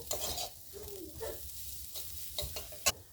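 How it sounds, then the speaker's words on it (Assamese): Lentils fry with gram flour in a pan for kachori filling, close sizzling broken by scraping stirring strokes and a sharp clink near the end. "আৰু বেচনখিনিৰে সৈতে মই দালিখিনি ভালকৈ ফ্ৰাই কৰি ল'ম।"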